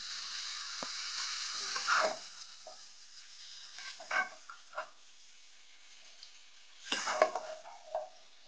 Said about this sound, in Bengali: ভালো করে মাংসটা মিক্স করে নিই।